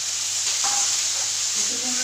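Bitter gourd and pumpkin frying with onions in a pan, a loud, even sizzle close by with a few soft stirring clinks, no voices.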